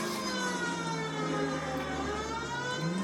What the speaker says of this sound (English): I can hear the sirens calling me.